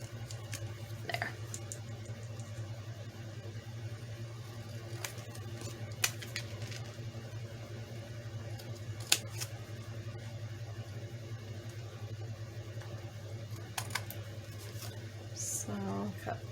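Scissors cut paper for a tag booklet: a few scattered, soft snips and crisp ticks over a constant low hum in the room.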